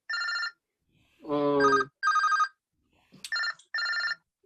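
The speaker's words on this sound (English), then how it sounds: "And that's my phone." A telephone rings in repeated bright electronic bursts with short gaps, close and loud, while a voice briefly speaks in between.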